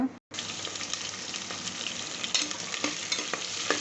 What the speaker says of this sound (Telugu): వేగిన తర్వాత ఒక కప్పు ఆనియన్స్ నాలుగు పచ్చిమిర్చి కట్ చేసి వేసుకుంటున్నా